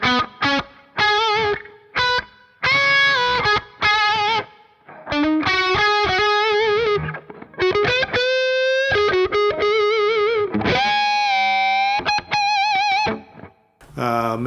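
Electric guitar played through an Axe-Fx III on a Friedman Smallbox amp model with medium plate reverb, a distorted tone in choppy bursts of chords and sustained notes ringing out, loud and close, with no talking.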